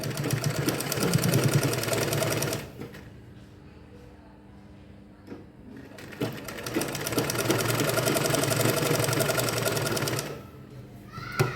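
A sewing machine stitching a dress at the shoulder seam, running in two long steady mechanical whirring bursts with a quieter gap between them and a brief stop at the end.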